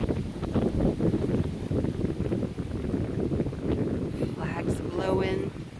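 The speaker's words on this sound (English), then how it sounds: "Flags blowing." Outdoor wind at historic Collinsville, where flags blow in the breeze, makes a steady, rough rush and buffeting against the microphone, with a brief voice heard near the end.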